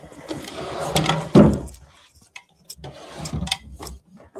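Built-in wooden drawers are pulled out of a historic house that hides an Underground Railroad hatch, giving a few loud wooden scrapes and knocks, the strongest thump near the middle, followed by quieter shuffling sounds.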